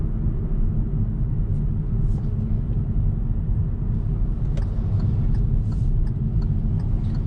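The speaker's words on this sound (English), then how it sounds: "there is a good amount of noise coming into the cabin of this venue" Steady low rumble of suspension and road noise inside a 2022 Hyundai Venue cabin while driving, a continuous even drone with no talking.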